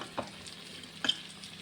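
Chicken pieces fry quietly in a pan, a soft, low hiss with a couple of brief stirring scrapes, heard close with no talking.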